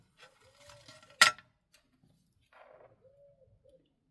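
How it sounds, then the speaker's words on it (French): A turtle dove coos softly in the distance, two low hollow calls separated by a sharp clatter like dishes, with faint rustling around a quiet indoor space. "Je sais pas si vous entendez, mais il y a une tourterelle."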